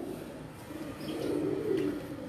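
Breeder pigeons on a rooftop coo in low, soft, rolling calls that swell and fade, close by, with a few faint chirps above the murmur and no one speaking.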